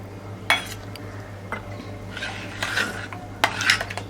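A spoon scrapes and clinks against a pot while jaggery kheer is mixed, with irregular close metallic taps over a steady low hum.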